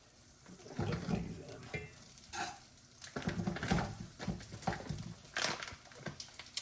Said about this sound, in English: I'm gonna throw a generous amount of butter in there. Go ahead and let that get hot.